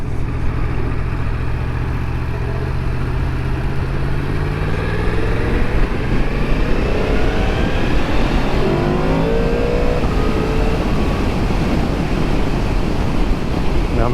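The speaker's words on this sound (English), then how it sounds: "that scream from that crossplane engine is just so satisfying" A 2022 Yamaha MT-10 with a crossplane engine revving hard on a test ride, a loud continuous engine scream that rises in pitch through the gears, with strong wind rush throughout.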